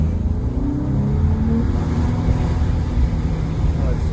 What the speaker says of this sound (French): Je vous laisse écouter un peu le bruit du moteur.